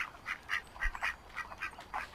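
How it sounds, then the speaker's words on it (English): A duck in the video game Bear Simulator quacks repeatedly in a steady series of nasal calls, fairly faint and alone over a quiet background. "Is that a duck?"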